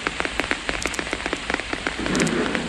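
Rain pattering on a leaf overhead, heard as a steady close patter of many light drops with sharper individual taps, swelling slightly toward the end.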